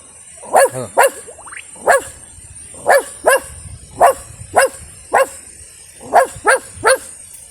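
A voice imitates a dog barking, with about a dozen sharp, loud woofs in uneven bursts, some doubled, and a brief whine between them.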